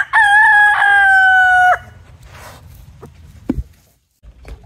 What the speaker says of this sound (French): nous avons aussi ce petit troupeau de poules Brahma